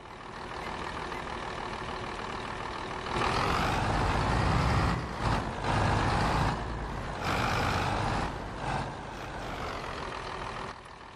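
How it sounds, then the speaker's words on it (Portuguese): A Mercedes truck engine in Farming Simulator 22 idles, then revs up into a louder, throaty roar that rises and falls several times before settling back down. "O som de motor Mercedes."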